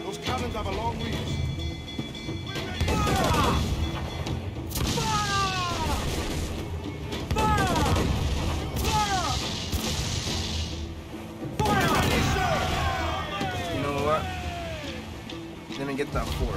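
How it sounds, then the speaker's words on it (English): Fort cannons fire in the Assassin's Creed IV Black Flag naval battle, with several loud, heavy booming blasts rising out of a dense battle din while voices shout and talk throughout. "Those cannons have a long reach."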